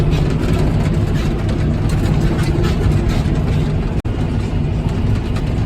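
Tractor engine running under load while mowing thick grass, a loud, steady low rumble that stays constant throughout with only a brief dropout near the end.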